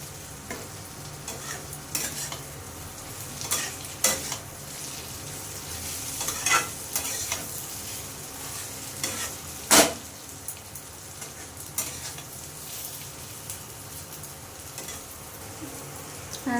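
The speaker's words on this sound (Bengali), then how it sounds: "দেখো আমি পোস্ত দিয়ে ভেজে নিয়েছি" Snake gourd (chichinga) fries with poppy seeds in a pan, making a steady soft sizzle broken by repeated scraping strokes and clacks from a stirring spoon; no talking.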